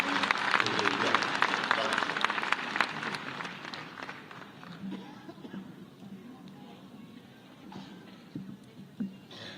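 An audience at an environment gathering in a hall breaks into strong applause that fades over several seconds into scattered claps and murmuring voices.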